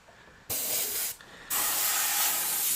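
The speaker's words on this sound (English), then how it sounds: "with paint guns, like when I'm spraying" An airbrush sprays paint in a loud, steady hiss. One burst is followed by a brief drop, then a longer continuous spray starts and runs to the end, with no talking.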